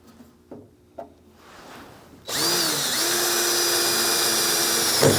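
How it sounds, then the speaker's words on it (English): Power drill boring a pilot hole, a few quiet knocks first, then a loud steady high whine that runs on to the end. "When you drill a pilot hole and then come out to your final size,"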